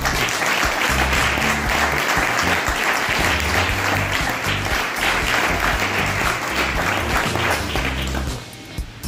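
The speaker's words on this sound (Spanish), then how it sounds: "Y otro aplauso para la mairalesa de 2023," Sustained audience applause at the presentation of the 2024 mairalesas in Huesca's Barrio de La Encarnación, steady and loud for about eight seconds with music-like tones underneath, then tapering off abruptly near the end.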